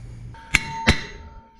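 Two sharp metallic clangs ring out as a hammer strikes the front brake rotor of a 2013-2020 Lexus GS 350 F Sport to break it free, each hit bright and close with a brief ringing tail.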